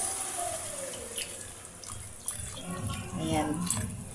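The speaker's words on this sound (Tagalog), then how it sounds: "Lagyan natin ng konting tubig." Water pours into a cooking pot holding fish for ginataang isda, a soft, close splashing and trickling under a voice, with faint clinks of utensils.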